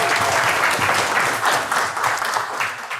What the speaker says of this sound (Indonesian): tepuk tangan dulu buat kita semua sekalian ya